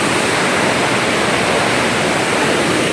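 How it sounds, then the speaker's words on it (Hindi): Fast-flowing river water rushing through the Kosi Barrage at Ramnagar, a loud, steady, dense roar filling the whole clip, with no voices. "यहाँ दिख रहा है पानी तो है, ये देखो कितनी स्पीड में चल रही है"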